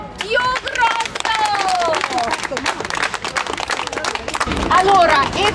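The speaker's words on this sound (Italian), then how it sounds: "E merita un applauso più grosso" An audience at a Ukrainian embroidery fashion show in Bologna applauds loudly and steadily, a thick wash of clapping mixed with crowd chatter and occasional voices.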